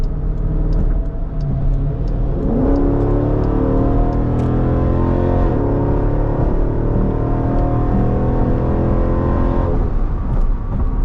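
A Jeep SRT that still has an unresolved fault accelerates hard, its engine climbing through several rising gear pulls. Loud and close, with steady road roar beneath and no voices.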